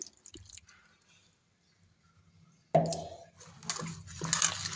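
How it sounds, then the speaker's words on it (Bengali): Green beans and potatoes are mixed by hand with spice-bowl rinse water, giving wet squishing and sloshing close by after a quiet start, with a few drips. "আমি মশলার বাটি ধোয়ার জলটা দিয়ে মাখিয়ে নেব"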